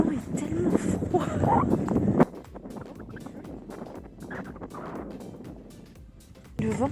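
Cold wind buffets the microphone outdoors among branches, gusting loudly at first then easing to a lower rustling roar, with a brief return of strong buffeting at the end.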